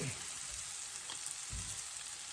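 Shrimp sizzle in a skillet, a continuous even frying hiss with a couple of faint low bumps, close and steady with no speech.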